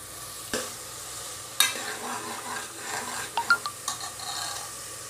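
Tomatoes tipped into a pan of softened onions for a vella kadala (white chickpea) curry fry with a steady sizzle, with several sharp scrapes and taps of a spoon stirring against the pan.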